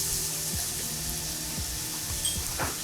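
Onions with salt and black pepper sizzle steadily in a pan, a constant hiss broken by a few soft knocks of a spoon or spatula against the pan.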